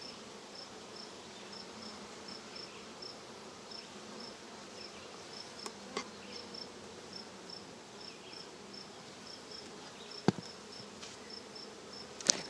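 Honeybees hum steadily and faintly around a backyard hive, a soft continuous buzz with a couple of brief sharp knocks near the end.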